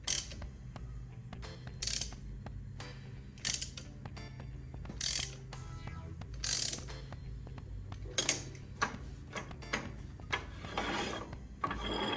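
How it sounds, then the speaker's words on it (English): Ratchet with an extension tightening a nut on a Warn overdrive unit mounted to a Willys Jeep four-speed transmission: repeated close clicking bursts of the pawl in short strokes, with quiet pauses between them and no talking. "So let me grab an extension and we'll get that tightened up."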